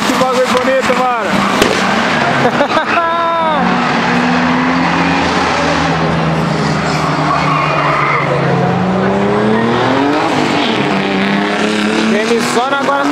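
A Chevrolet Chevette drifts on a kart track, its engine revving hard through gear changes while tires squeal in long, loud wailing sweeps, with excited commentary talking over it.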